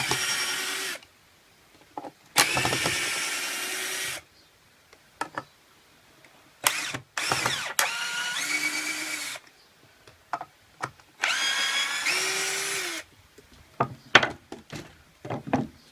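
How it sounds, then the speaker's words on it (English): A Black+Decker 20V MAX cordless drill backs screws out of wood in repeated bursts of whirring motor noise, each lasting one to two seconds, separated by quiet gaps and knocks as the bit reseats. "It's a really good beginner drill."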